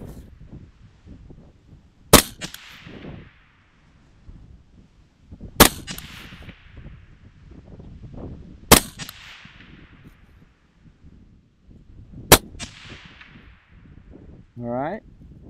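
Five rounds of 55-grain M193 fired from an AR-15 rifle at a 300-yard range, sharp loud cracks spaced a few seconds apart with quiet handling noise between shots.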